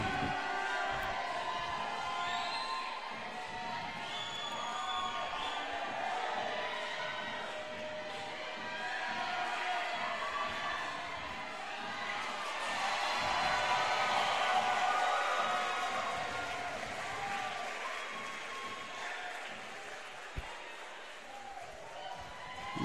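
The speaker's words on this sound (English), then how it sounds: "the climbers are off and the crowd goes crazy" Crowd cheering and applauding at the final round of a collegiate speed climbing national championship, a broad sustained roar of many voices that swells midway and stays loud throughout, with no talk over it.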